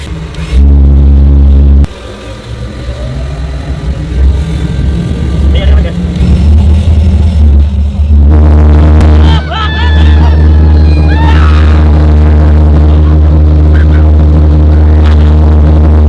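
A homemade fuel-burning jet engine running in the open, a loud sustained roar and drone with shifting pitch and surges, while people shout and talk over it.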